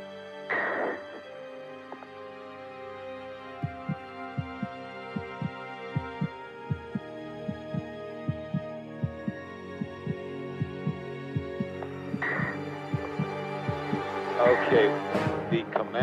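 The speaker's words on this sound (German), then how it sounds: "Die Astronauten bekommen solches Herzrasen" A racing heartbeat sound effect stands in for an astronaut's elevated heart rate, a steady fast pulse of low thumps running under a droning musical hum that swells at both ends.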